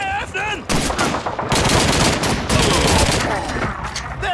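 Heavy gunfire in the Call of Duty 2 video game, dense overlapping rifle and machine gun bursts firing continuously and loud, with shouted voices briefly heard at the start.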